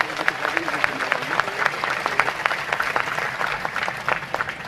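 An audience at a Hindi-language religious discourse by a Jain monk claps together in a dense, even patter of many hands, continuous throughout, with some voices faintly underneath.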